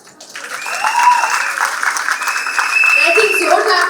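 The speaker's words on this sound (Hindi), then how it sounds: "अपने लिए जरूर तालियां बजाओ" Audience applause breaking out at a Hindi-language motivational talk for Oriflame sellers, building quickly and holding as a steady broadband wash of clapping with voices mixed in.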